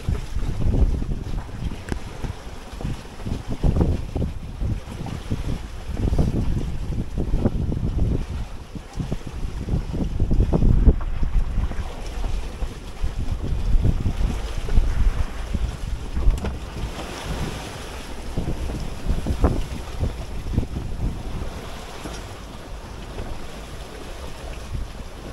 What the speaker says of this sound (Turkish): Güzel rüzgar geliyor.